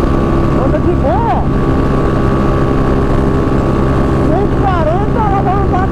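A CG 94 motorcycle with a 240cc pushrod engine being pushed hard on a highway, giving a loud, steady engine drone with rushing wind throughout and a voice faintly audible underneath.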